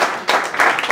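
Guests at a network event in Randers clap, a short burst of dense applause with rising swells, close and fairly loud.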